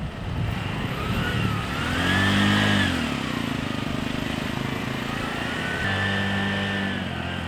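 Several tuk-tuk engines drone and putter as they arrive, a steady motor rumble that swells in the middle and rises again near the end, heard from moderate distance with no talk.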